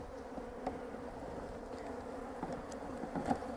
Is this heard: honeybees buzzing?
yes